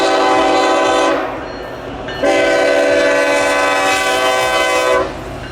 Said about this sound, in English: we moved down to Kearney's Crossing and caught this trash train